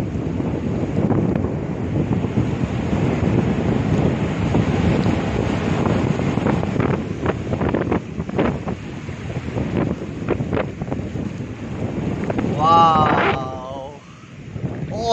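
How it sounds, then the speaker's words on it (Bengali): Sea waves wash onto Bakkhali beach in a continuous roar heavily buffeted by wind across the microphone, with faint voices briefly rising near the end. "সমুদ্রের জলের আওয়াজ পেয়েছো?"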